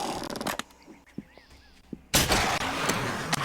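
Gunfire in the survival video game 7 Days to Die: a couple of sharp, muffled reports in the first two seconds, then a loud, dense burst of shots that carries on to the end, with no talking.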